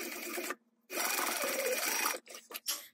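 Sewing machine stitching a lining panel seam at a quarter-inch allowance, two fast whirring bursts with a brief stop between, then a few short stuttering stitches at the end.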